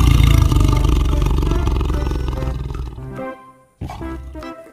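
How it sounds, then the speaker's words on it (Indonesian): A tiger roars loudly and close, a deep growling roar fading over a few seconds, then a short second roar after a brief pause. "Wah, ini ada hewan yang namanya harimau."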